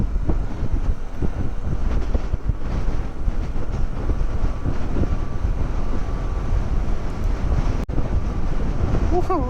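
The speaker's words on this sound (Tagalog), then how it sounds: "Lakas ang hangin." Strong wind buffets the microphone outdoors with a constant loud roar and rumble, broken by gusty fluctuations and a brief knock.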